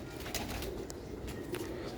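Pigeons coo softly and repeatedly in a loft, a low murmuring hum with faint chirps over a steady background.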